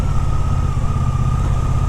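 Loud, close engine roar from a 2024 Moto Guzzi Stelvio motorcycle pulling hard in second gear, a steady sustained drone with no voices over it.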